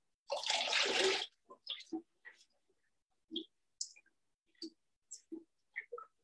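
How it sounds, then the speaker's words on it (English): Ceramic glaze poured over a plate gives a soft, close splash of liquid, followed by scattered small drips and clicks as the plate is turned. "I'm just going to pour this right here."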